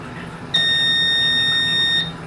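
A darkroom timer gives one sustained, piercing electronic beep lasting about a second and a half, clear and close, then cuts off into quiet room tone.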